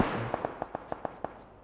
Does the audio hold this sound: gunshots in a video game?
yes